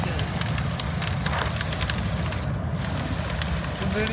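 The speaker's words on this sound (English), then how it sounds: "It's literally raining so hard." Heavy rain pours in Sedona, Arizona as a dense, loud, continuous patter and hiss close by, with a voice briefly present over the downpour.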